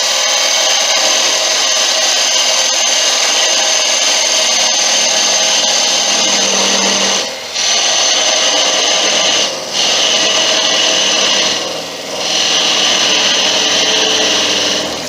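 A wood lathe spins continuously while a tool undercuts a small turned wooden snowman, a loud steady whirring with a high whine and rough cutting hiss, dipping briefly three times as the tool lifts off.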